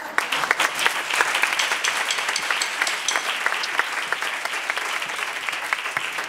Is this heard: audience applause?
yes